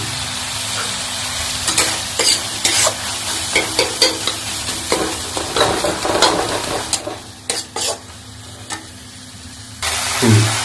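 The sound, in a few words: spices and tomato frying and being stirred in a pan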